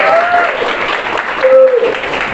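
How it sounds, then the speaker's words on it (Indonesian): Applause from a university class audience at a morning lecture, a continuous mass of clapping at moderate loudness with some voices and brief tonal sounds over it. "Tepuk tangan untuk kalian semua"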